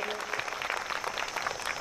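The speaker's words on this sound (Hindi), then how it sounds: "जोरदार ताली से उस बच्ची का स्वागत कीजिए।" Audience at a community gathering in Katni applauding to welcome a girl student, steady sustained clapping of a moderate crowd throughout.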